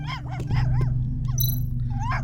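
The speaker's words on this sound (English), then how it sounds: "Why are you barking?" Cartoonish dog barks and yips from the side-scrolling game Tales of the Neon Sea, several short pitched calls in a loose rhythm over a steady low musical hum.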